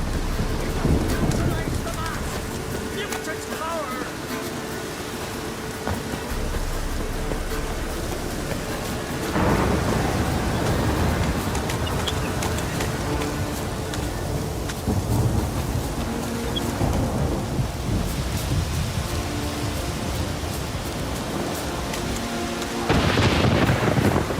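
A thunderstorm in The Witcher 3: Wild Hunt brings heavy, steady rain and gusting wind, with several loud thunder rumbles breaking through, one near the middle and a sharp crack at the end, while voices speak over it.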